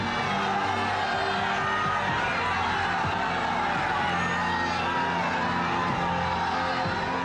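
A large crowd at the Prime Minister's road show in West Bengal fills the air with steady, dense cheering and shouting, a constant loud roar without a break, with some lower droning tones underneath.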